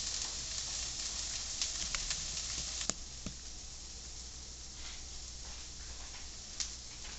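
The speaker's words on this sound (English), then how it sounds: "Okay, it's been sauteing for about 3 minutes." Chicken parmigiana ingredients sauteing in a pan, a soft steady sizzle with faint crackles and a few sharp ticks, low in level with no talk.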